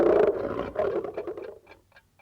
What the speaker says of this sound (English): Is it time for the lion to roar?